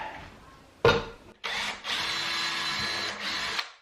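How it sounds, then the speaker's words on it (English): A power drill bores a hole into a modular closet system panel during a DIY master closet upgrade, with a short burst followed by a longer sustained whirring run that stops and briefly restarts, close and loud with no talk. "I better pull this away from the wall before I drill a hole in there"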